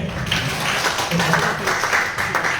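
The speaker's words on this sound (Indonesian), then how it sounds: "Oke, tepuk tangan boleh." An audience at a business presentation claps, a fairly steady patter of hands with a voice murmuring underneath at moments, moderately close and continuous.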